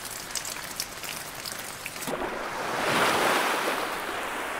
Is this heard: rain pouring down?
yes